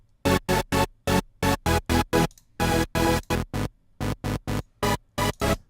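Bright, buzzy Serum supersaw synth chords with a sub oscillator an octave below adding low-end weight, played as short rhythmic stabs with sharp on-off gating and brief gaps between repeated chord hits.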